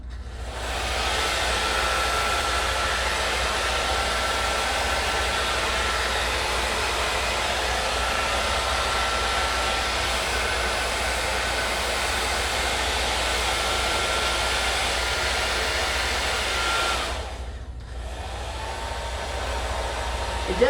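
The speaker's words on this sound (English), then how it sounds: "Then we're going to get the blow dryer before it starts." A blow dryer roars continuously for about seventeen seconds as it pushes wet paint across a surface, loud and close, then cuts off, leaving a brief quiet tail.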